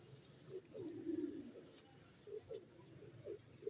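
A pigeon cooing softly nearby, a longer rolling coo followed by a few shorter ones in a quiet setting.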